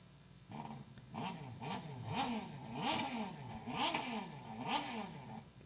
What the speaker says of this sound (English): Can hear the GP skis getting fired up here for our next moto.